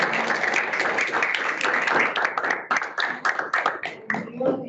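An audience at a neuroimmune pharmacology presentation applauds in a dense wash of clapping that thins into scattered separate claps, with a voice speaking over it near the end.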